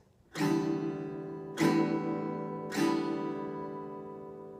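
An acoustic guitar strums three full chords at a steady, unhurried pace, each one ringing out and overlapping the next, close and clear.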